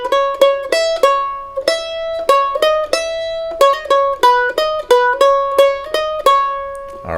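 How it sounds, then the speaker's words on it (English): Banjo picking the first phrase of the B part of a tune, played alone in quick, evenly plucked notes with a steady bright ring and no talking. "so the first phrase of the B part sounds like this"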